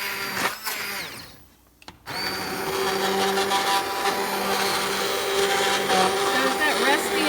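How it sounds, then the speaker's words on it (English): An immersion blender purees broccoli in a pan with a steady, loud whir that briefly dips and then restarts. A voice talks over the blending. "I'm going to take my immersion blender."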